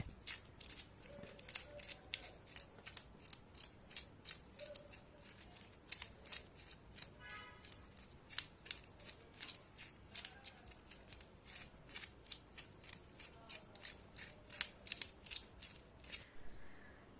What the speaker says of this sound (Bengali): জীবনে প্রথমবার আমি মাছ কাটছি, তাও আবার বড় মাছ।